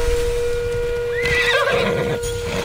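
A horse in Assassin's Creed Odyssey gives a clear neigh over a steady hum of game music, with clip-clopping hooves and rustling ambience around it.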